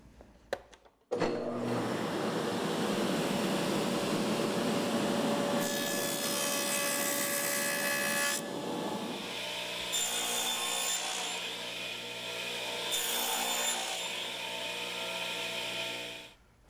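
A power saw cuts a wooden piece to length in a woodworking shop, a loud steady whine after a sharp start that changes pitch partway through the cut and runs nearly continuously before stopping.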